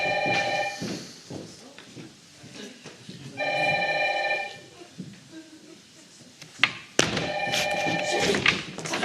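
An old-style telephone bell rings in three repeated bursts on a theatre stage, loud and close, with actors' voices and thuds from the stage between and beneath the rings.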